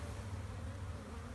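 Honey bees hum steadily in a bee yard, a low continuous buzz from many insects at a moderate distance, with no voices.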